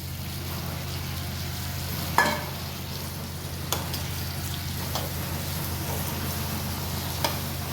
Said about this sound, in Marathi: वांगी ही आपल्याला 2 मिनटं या मसाल्यामध्येच परतून घ्यायची आहे